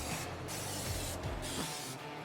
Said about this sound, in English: We're using a little canola oil here. Just a little spray on stuff.